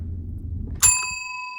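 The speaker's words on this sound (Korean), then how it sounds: "종이 울렸어." A bell rings once with a bright, clear strike that rings on with a sustained tone, following a low murmur of background noise.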